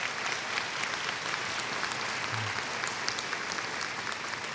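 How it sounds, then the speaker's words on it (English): Graduation commencement audience applauding its professors, a dense, steady wash of many hands clapping at moderate distance, continuous and even throughout with no voices standing out. "How about let's give a round of applause for our professors?"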